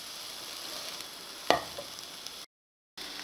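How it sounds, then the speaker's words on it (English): A spoon stirs bolognese with basil and cinnamon in a pan, giving one distinct scrape over a faint steady sizzle, with a brief silent dropout near the end. "and then I'm going to give it a stir"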